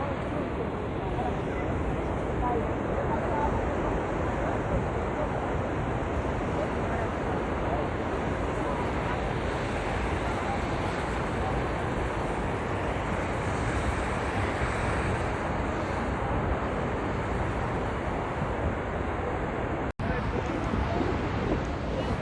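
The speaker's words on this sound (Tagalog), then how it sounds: "This is Niagara Falls." Niagara Falls waterfall roaring as a dense, constant broadband rush, loud and unbroken throughout, blended with outdoor wind noise and no clear voices.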